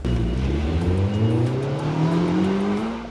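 A Slingshot custom build drives off on a test spin, its engine loud and close, revving up steadily through rising gears with a rough, throaty tone and no voices.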